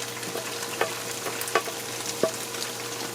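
Dense dough boulders dropped into simmering curry sauce for Trinidadian kurhi, a soft steady sizzle and bubble with a few faint plops and splashes, no talk.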